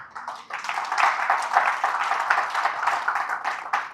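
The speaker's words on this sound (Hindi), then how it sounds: "तो तालियां बजाते रहिए।" Dense, sustained audience applause fills a live entrepreneurship seminar hall, many hands clapping evenly for about four seconds without a break.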